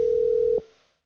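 A telephone line gives a steady, loud single-pitch dial tone as a call is placed, then it cuts off abruptly and fades into silence.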